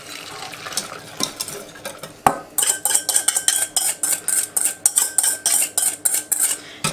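Rapid, rhythmic clinks of a utensil scraping and tapping against a metal saucepan while stirring milk, steady and close, with a louder knock just before the stirring speeds up.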